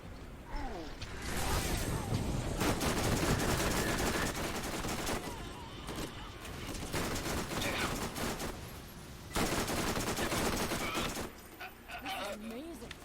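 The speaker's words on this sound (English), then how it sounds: "That's a really effective glob gun." A glob gun fires repeatedly in the Borderlands game, sustained loud bursts of weapon fire with mechanical clatter, pausing briefly before resuming, while a voice talks over the action.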